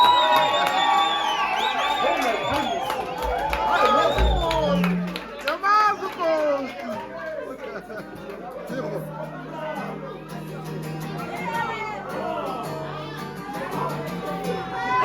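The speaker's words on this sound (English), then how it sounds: "Give him a round of applause again." A lounge crowd at a South African music showcase cheers and whoops loudly, with dense chatter and a few shouting voices above the steady roar, sustained throughout.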